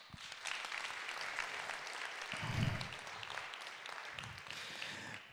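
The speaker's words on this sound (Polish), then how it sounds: "Brawa!" An audience at a ceremony claps steadily, a broad patter of many hands at moderate loudness lasting several seconds, with a few low thumps and murmurs beneath.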